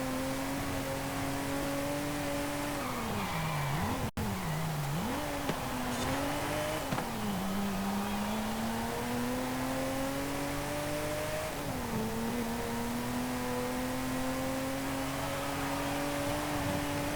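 A 1962 Ferrari 250 GT Lusso's naturally aspirated V12 revving in Forza Horizon 5, a loud continuous engine note rising, dipping and climbing again through the gears, with no talk over it.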